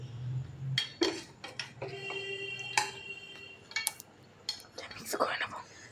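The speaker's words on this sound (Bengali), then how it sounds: "এবার আমি এটাকে ভালো করে ফেটিয়ে নিচ্ছি।" A fork beats egg mixture seasoned with chilli powder, salt, turmeric and cumin in a bowl, giving quiet irregular clinks and taps against the rim, up close.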